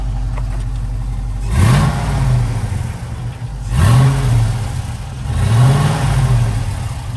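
A V8 LS engine swapped into a motorhome revs three times through a full custom exhaust, each throttle blip rising in pitch and falling back, with a steady deep idle rumble between them, loud and close.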